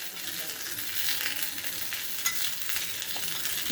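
Neem flowers sautéing in ghee in a pan, a steady close hiss of frying with soft stirring scrapes running throughout, no voices.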